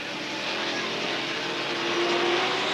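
A Can-Am race car, the Chipwich Charger, drones past at Mosport in a steady, loud engine roar that holds a sustained pitch and swells slightly toward the end, with no talk over it.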